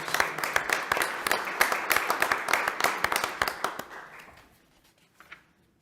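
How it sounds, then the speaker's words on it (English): People at a board meeting applauding, a crisp burst of closely spaced claps that thins out and fades after about four seconds, leaving near silence with one faint late sound. "Can we applaud her?"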